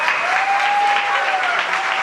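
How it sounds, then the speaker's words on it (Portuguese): An audience applauds children at an Easter cantata, a dense, steady wash of clapping across the whole clip with a sustained tone ringing above it. "Uma salva de palmas para essas crianças."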